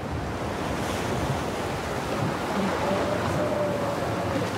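Strong wind of nearly 60 km/h roars over surging waves along a rocky coast on the Côte d'Émeraude, a dense, continuous wash of surf and gusting wind noise buffeting the microphone.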